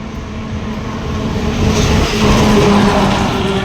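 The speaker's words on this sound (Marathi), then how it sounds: "गाड्यांचे बहुत ट्राफिक आहे" Heavy road traffic rumbles past on a road cut through hills, a loud, steady drone of engines and tyres that swells midway as a vehicle passes close.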